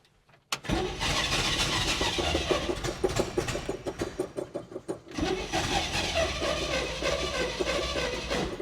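Starter cranking the engine of a 1970 Chevrolet K10 4x4 truck that was abandoned for 26 years, two long cranking runs with rhythmic chugging and no catch, separated by a short break near five seconds, close and loud.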